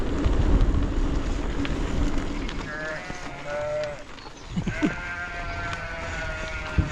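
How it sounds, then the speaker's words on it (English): Sheep and lambs bleat in a field in Shropshire during lambing season in spring, several calls of rising and falling pitch at moderate distance, over wind noise on the microphone and a low background rumble. "It's lambing season, baby."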